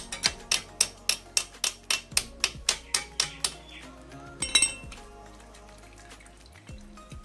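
Working the oil filter out of a KTM RC 200 BS4 motorcycle during a full service gives about a dozen evenly spaced sharp metallic clicks, then a brief rattling clatter and quieter handling noises.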